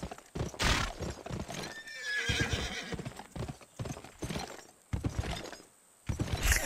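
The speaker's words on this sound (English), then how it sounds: "Calm down there, horsey." A horse in the video game Jail Break neighs loudly and its hooves clip-clop in quick bursts, with a brief crash-like impact partway through, close and clear with no one talking.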